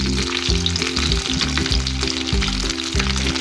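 Fish frying in ghee in a pan gives a steady, close sizzle that runs without a break. A low rhythmic hum sits underneath, and no one speaks.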